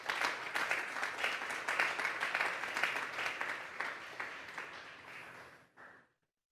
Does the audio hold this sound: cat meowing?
no